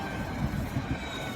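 Steady rumbling roar of a train passing a railroad crossing, close and continuous with no clear clacks or horn, heard alone without voices.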